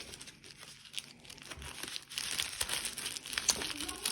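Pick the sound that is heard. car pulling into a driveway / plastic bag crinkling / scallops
plastic bag crinkling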